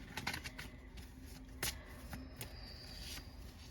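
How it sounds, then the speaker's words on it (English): Tarot cards are shuffled during a card reading, producing soft riffling and sliding swishes with a few sharper snaps, faint and close with no talking. "I'm shuffling away, I'm shuffling away"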